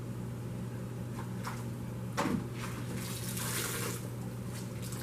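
Kitchen tap water running while chicken leg quarters are prepared, a soft steady flow with a few brief splashes and clatters, fairly quiet.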